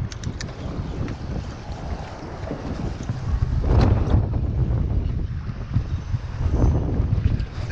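A boat's outboard motor runs steadily while the boat holds position beside a rock jetty, with wind buffeting the microphone and water washing around the hull, all continuous and fairly loud with no talk.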